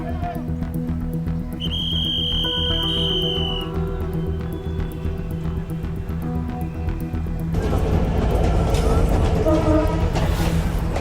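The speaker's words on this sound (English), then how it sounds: "The train is coming." A train rumbles nearby in Bangladesh, its low mechanical drone swelling louder toward the end, with a brief high whistle-like tone early on.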